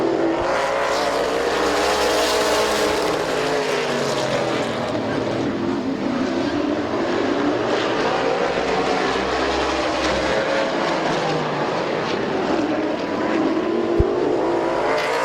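Race cars roar continuously around Midvale Speedway, a loud, steady engine drone that swells and fades as the pack circles, with no voices over it.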